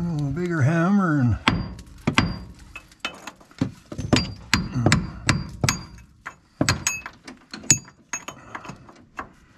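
Repeated sharp hammer blows striking wood or metal on a Ford truck under repair, irregular and close, with a voice humming or talking briefly at the start.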